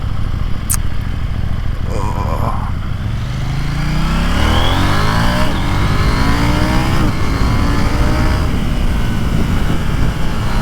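A KTM 890 Duke motorcycle rides along curvy country roads, its engine droning loudly up close with a rising rev sweep as it accelerates, set against steady wind rush.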